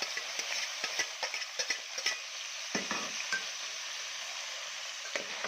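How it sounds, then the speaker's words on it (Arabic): Pieces of chicken stir-frying in a hot pan, with a steady sizzle and repeated scraping and clinking as a utensil turns them, close up, with no voices. "هي الفرخه اتشوحت معانا، هي لسه تشويحه كده هو تمام. نقلب فيها تمام."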